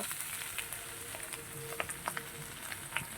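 Jackfruit sizzles and fries in a pan with a steady crackling hiss, broken by a few sharp pops and light utensil taps close by.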